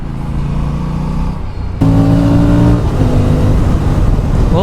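An Aprilia Tuono 457 motorcycle accelerates hard, its engine droning loudly and steadily, then the pitch drops abruptly as it upshifts without the clutch and the engine climbs again under continuous wind rush.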